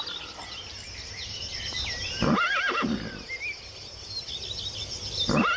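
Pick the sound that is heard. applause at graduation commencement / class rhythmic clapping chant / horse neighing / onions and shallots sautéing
horse neighing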